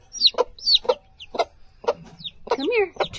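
A mother hen on a farm clucks in short, repeated bursts near her chicks, close and clear, with thin high peeps in between and a person talking nearby.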